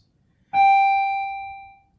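A single clear electronic chime rings out, sustaining and slowly fading over about a second, with another strike beginning right at the end; quiet otherwise.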